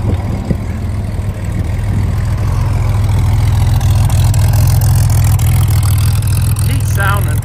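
Steady, loud idle from the six-cylinder pancake engine of a 1961 Chevrolet Corvair 95 pickup with Powerglide transmission, a close, even low rumble throughout with a slight swell in the middle.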